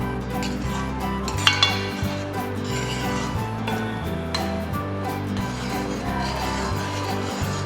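A spoon stirs sugar into aval malai, a sweet flattened-rice dish in a pan, producing continuous close scraping and rubbing against the metal with occasional sharper clinks, steady throughout and free of speech.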